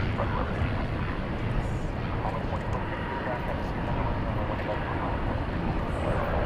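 A Martin Air Cessna Caravan turboprop coming in to land after a low approach at a busy airport, its engine a steady, fairly loud broadband rumble throughout, with voices talking over it.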